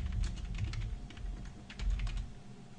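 Someone types code on a computer keyboard, producing a patter of soft key taps in short clusters over a low background hum.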